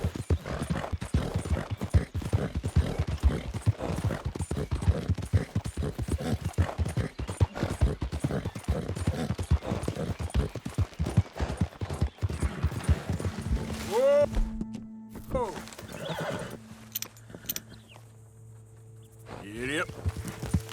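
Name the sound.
horse hooves trotting in the video game Red Dead Redemption 2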